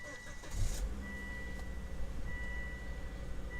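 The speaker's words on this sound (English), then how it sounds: "Okay, so it cranked over, it was a decent crank over." A 2006 Volvo V70 engine cranks over briefly, catches and settles into a steady idle close by, with no talking.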